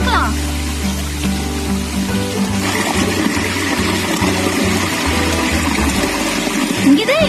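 Water pours continuously from a small waterfall at a village pump set, a steady rushing splash heard close by under people talking.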